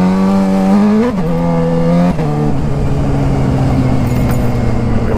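Engines roar loudly and close by in crowded traffic at a protest shutdown, with a strong revving note that climbs, dips and settles into a sustained drone for several seconds.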